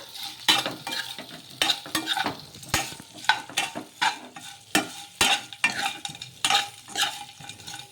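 Goli idli pieces and spices are stirred into hot frying oil, with steady rhythmic scraping and clinking of a spoon in the pan and a soft sizzle underneath. The scraping stays close and fairly loud.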